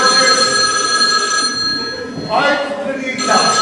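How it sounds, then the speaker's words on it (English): An old-style telephone bell rings in a domestic scene from an amateur stage drama, with loud, continuous bursts that briefly pause before starting again, heard close and steady. "I get the phone there, look. Answer that."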